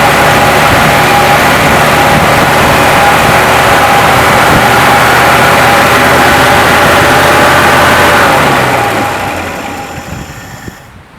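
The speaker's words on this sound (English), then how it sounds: "it doesn't want to idle, but it does run" A 1967 Chevy C10 engine, restarted after sitting parked for 23 years, runs loud and close with a rough, uneven roar that holds steady for several seconds before dying down and fading out near the end.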